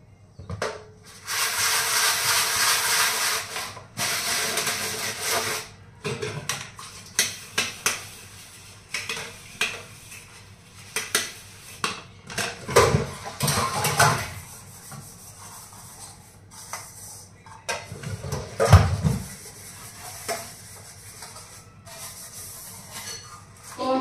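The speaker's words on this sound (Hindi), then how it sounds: "और बर्तनों का लग गया है ढेर, तो पहले फटाफट बर्तन साफ करते हैं।" Dishes and pots being washed by hand in a home kitchen, with repeated scrubbing and rubbing scrapes, clinks of utensils and bursts of running water, close and fairly loud, continuing in uneven spurts without talk.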